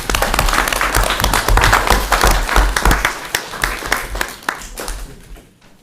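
Loud, close applause fills a school committee meeting room as two students are honoured, dense clapping holding steady before tapering off at the end.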